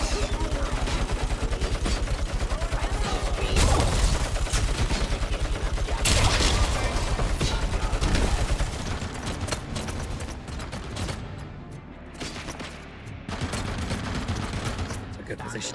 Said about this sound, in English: Clear up this chain gun and go to town.